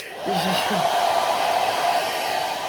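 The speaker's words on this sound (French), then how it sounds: "je prends le sèche-cheveux" A handheld hair dryer switches on and blows with a steady, loud whooshing hum close by, holding constant for a couple of seconds with no talking over it.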